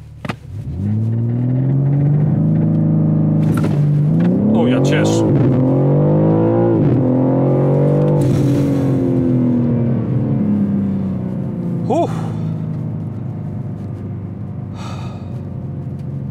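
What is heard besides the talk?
BMW M3 Touring G81 accelerating hard from standstill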